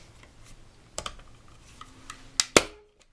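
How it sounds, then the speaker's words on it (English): Staple gun firing a staple into stool upholstery, a sharp snapping clack near the end, preceded by a few softer taps and handling clicks in a quiet room. "And I'm going to shoot a staple in."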